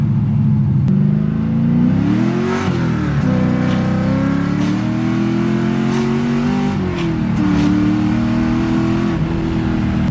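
A car with an LS V8 engine and T56 manual transmission drives hard, its loud, close engine note rising and falling through gear changes with steady revving and no talking.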